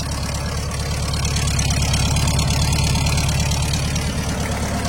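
A 1974 Volkswagen Combi T2 idles with an original-style exhaust, its engine a loud, steady, even rumble heard close up throughout, with no voices.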